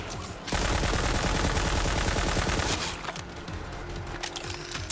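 Rapid automatic gunfire in Borderlands 3, a loud, dense, steady burst of shots lasting a couple of seconds, then followed by more scattered shooting and effects.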